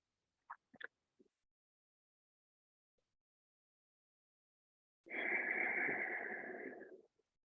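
Ujjayi yoga breathing through a constricted throat gives a steady, hoarse, ocean-like rush lasting about two seconds, close and alone, following a few brief faint clicks and long silence.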